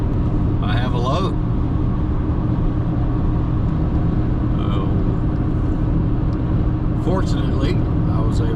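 A loaded scrap truck drives along a road, its engine and tires making a steady, heavy low rumble throughout, with brief traces of a voice near the start and end.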